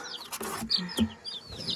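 Backyard homestead chickens cluck and give soft squawks close by in a brief, uneven burst of short calls, with no talk over them.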